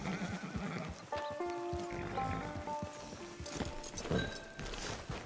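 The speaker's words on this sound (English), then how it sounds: "Get your horse." A horse in the video game Red Dead Online whinnies with drawn-out, wavering calls while its hooves clop in an uneven rhythm nearby, all fairly quiet against a faint background.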